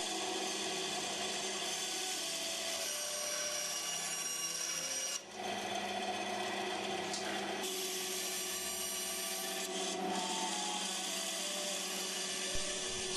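A hand saw cuts away the excess wood around the outside of a wooden clock wheel, a steady close rasping that runs without a break, with one short pause partway through.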